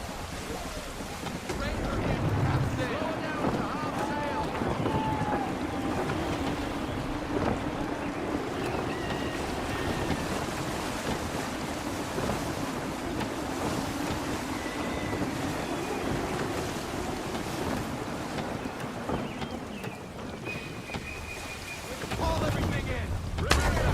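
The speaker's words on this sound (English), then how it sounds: "Gusty winds can be difficult to manage." Sailing a ship in Assassin's Creed 3, with a steady roar of gusty wind and crashing waves under the hull throughout, loud and continuous, with a voice speaking over it.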